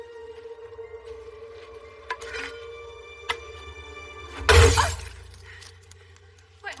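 Safety glass shatters in one sudden loud crash midway, with fragments trailing off, set among quieter scattered knocks and faint background tones.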